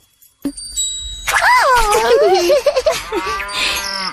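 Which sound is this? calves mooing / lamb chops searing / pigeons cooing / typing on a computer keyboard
calves mooing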